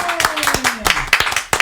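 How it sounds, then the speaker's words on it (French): Studio audience at a regional game show claps for two contestants, with distinct individual hand claps in an uneven rhythm, close and fairly loud, while a voice carries faintly beneath. "Tu sais que face à toi, 2 candidates, on va les applaudir"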